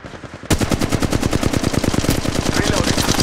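Rapid automatic gunfire in Apex Legends Mobile erupts loud and close after a brief quiet moment, a steady rattling stream of shots sustained without pause.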